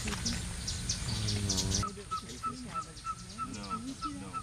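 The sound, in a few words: songbirds mobbing a pygmy owl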